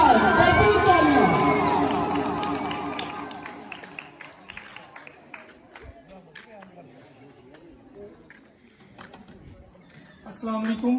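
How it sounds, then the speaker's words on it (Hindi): At a school farewell event, a crowd of students cheers, whoops and shouts loudly at first, then the noise fades into scattered claps and chatter before rising again near the end. "टोनी साहब, भरपूर तालियां।"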